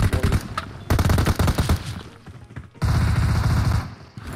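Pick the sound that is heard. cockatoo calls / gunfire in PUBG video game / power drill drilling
gunfire in PUBG video game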